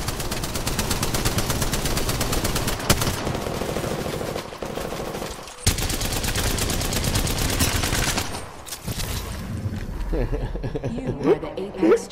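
Gunfire in the video game Apex Legends: rapid bursts of automatic fire rattle close and loud, broken by brief pauses, with a player's voice talking over the shooting.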